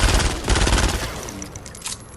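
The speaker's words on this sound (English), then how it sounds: "It's just your average SMG." Rapid bursts of SMG fire in Fortnite Save the World, a dense rattling volley that tapers into scattered shots and faint game effects.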